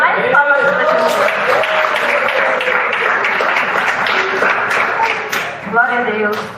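A church congregation applauds for Jesus during a worship service. Sustained clapping runs under prominent voices that sing or speak over it, loud and roomy, fading slightly toward the end.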